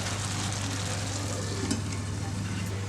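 Okra masala simmers in a covered pan, giving a steady, even sizzle and bubbling with a constant low hum beneath it, with no talk.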